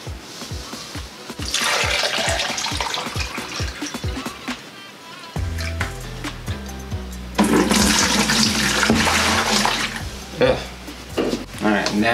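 Water is poured into a bucket to mix cement for a planter and gnome craft, in two splashing bursts of pouring over a rhythmic background.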